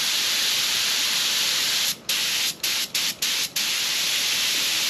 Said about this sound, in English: Shooting some lacquer thinner through and getting the adjustment set.